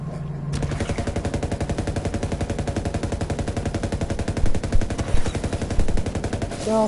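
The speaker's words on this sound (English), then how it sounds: "Who the fuck is shooting me?" Rapid, sustained automatic gunfire from a Freeze Tag video game, loud and steady for several seconds, with a few heavier bursts toward the end.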